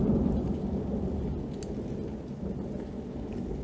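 Rain falls outside while low, rolling thunder rumbles through the whole stretch, a deep sustained roar with the steady patter of rain on top and no voices.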